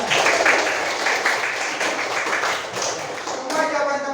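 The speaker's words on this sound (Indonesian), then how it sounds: "Tepuk tangan dulu untuk teman-temannya." Students in a classroom clap together in a quick, loud, even patter of hands that runs the whole time, with a voice briefly heard toward the end.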